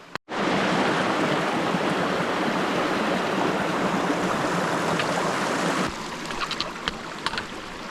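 A White Mountains river in New Hampshire flows in a loud, steady rush of broadband water noise from close by. It drops somewhat in level near the end, where a few faint knocks appear.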